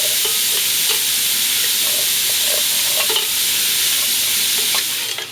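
Onions and garlic sauté loudly in a Dutch oven, a constant bright sizzle with occasional scraping stirs and soft clicks of a utensil, close and uninterrupted with no talking.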